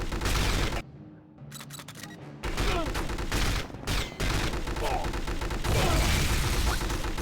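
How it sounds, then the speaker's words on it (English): A grenade blast in the 007 From Russia with Love game booms out amid loud, dense bursts of gunfire, with brief lulls and a voice talking through the action. "What if I throw the grenade?"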